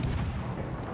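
A ship's guns fire in World of Warships, one heavy low rumbling boom that fills the whole second and drowns out everything else.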